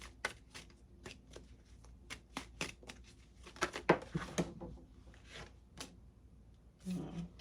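Tarot cards shuffled by hand in a quick run of crisp riffling bursts and slaps, close and fairly loud, ending in a brief softer rustle.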